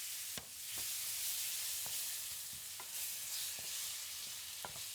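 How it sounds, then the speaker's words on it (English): Gravy being stirred in a pan as stock is added little by little, a faint steady hiss of simmering broken by light periodic taps and scrapes of the spoon, quiet and unaccompanied by talk. "Still stirring, keep on adding enough stock until you get the thickness you want."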